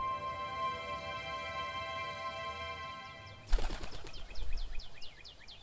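City pigeons burst into flight with a sudden loud clatter of flapping wings, a flurry of wingbeats that follows a faint steady hum and fades over the next couple of seconds.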